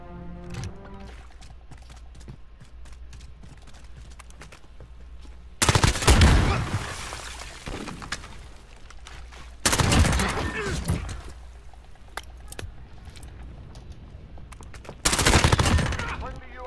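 Gunfire in Call of Duty Modern Warfare, heard as three loud bursts at intervals separated by quieter stretches of low background noise, with light talk in between.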